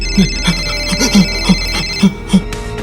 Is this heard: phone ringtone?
yes